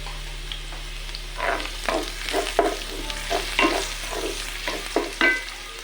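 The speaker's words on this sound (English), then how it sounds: "Then I added in my curry powder and stirred a bit." Curry powder is stirred into a tilapia sauce frying on a charcoal stove, making repeated scraping strokes over a steady low sizzle, close and clear with no talk.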